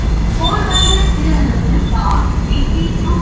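A train rumbles at Kannur railway station with a steady low roar, brief high metallic squeals of wheels, and faint voices in the background.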